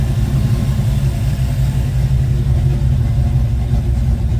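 A 1972 Ford Mustang Mach 1 V8 idling after restoration upgrades and a timing adjustment, a loud, steady low rumble close by with no talk.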